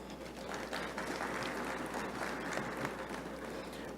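A crowd gives a round of applause at a launch event, with steady, dense clapping throughout over a low hum.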